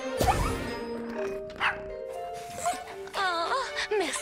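Several high, yelping barks and whines from puppies, quick and close, overlapping in short bursts.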